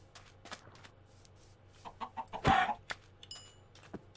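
Chickens in the video game Minecraft clucking, a few short clucks and a louder squawk, faint and sparse against a quiet background.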